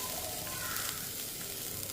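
Chopped carrot and beetroot sautéing in a pan for a weight-loss soup, a soft continuous sizzle held close and steady throughout, with no voices.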